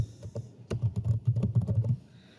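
Quick clicks of typing on a computer keyboard, a short pause followed by a rapid steady burst of keystrokes, close and clear with no talking.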